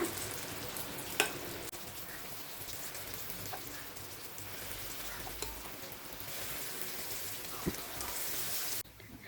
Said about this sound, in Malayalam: ചെറിയൊരു സ്പൂൺ മാവ് ഓരോന്നിലും ഒഴിച്ചു കൊടുക്കാം.